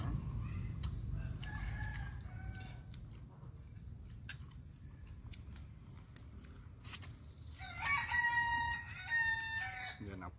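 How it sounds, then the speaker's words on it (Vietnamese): A rooster crows in a rural yard in the Mekong Delta countryside, its loud, harmonic call rising clearly near the end over a low background rumble, with scattered clicks and short chirps earlier. "nãy con gà kìa đó bạn"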